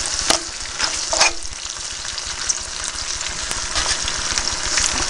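Onion rings frying in oil in a pan alongside jalapenos, giving a steady close crackling sizzle with a few brief utensil scrapes and no talking.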